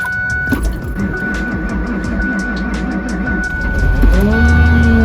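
An Audi TT engine cold-starts in sub-zero weather, cranking with a rapid, labored churning, then catching at the end with a louder rumble, heard up close.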